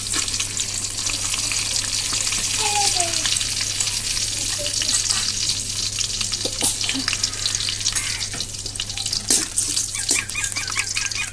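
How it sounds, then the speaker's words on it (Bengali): Bay leaves, cardamom and cinnamon frying in hot oil, a loud, continuous close sizzle with crackling pops and occasional stirring clicks throughout. "তেল গরম হয়ে এসেছে, দিয়ে দিচ্ছি 4টা তেজপাতা, এলাচি, দারচিনি"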